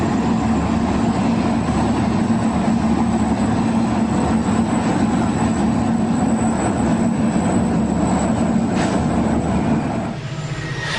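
A Southern Pacific train on the Cascade line near Salt Creek Bridge rumbles past with a loud, steady low engine drone and broadband rolling noise, constant throughout, then dropping slightly in the last second.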